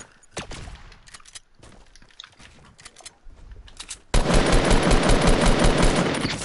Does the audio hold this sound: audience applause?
no